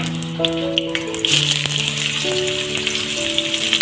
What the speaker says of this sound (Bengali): আর কিছুটা তেল দিয়ে দিলাম পেঁয়াজগুলো এবার ভেজে নেব